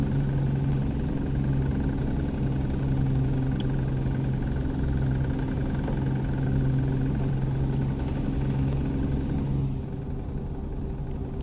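A Mack truck with a twin-stick six-speed transmission in American Truck Simulator, its engine giving a steady, loud, low rumbling drone that eases slightly near the end.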